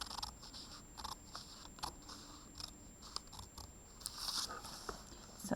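Scissors cutting a sheet of paper along drawn straight lines, a run of close crunchy snips and rustling paper at an uneven pace, with no talking.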